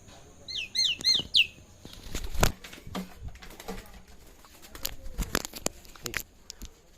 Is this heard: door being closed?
no